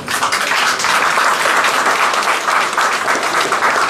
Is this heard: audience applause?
yes